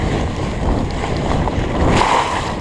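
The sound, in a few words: fat bike riding through water crossing at high speed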